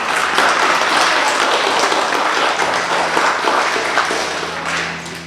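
An audience at a school award assembly claps in sustained, dense applause that fades slightly toward the end, with faint voices underneath.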